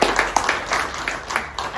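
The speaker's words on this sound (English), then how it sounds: "give them another round of applause." An audience at an art and literature exhibition opening gives a brief round of applause, with scattered, uneven claps from a modest crowd nearby.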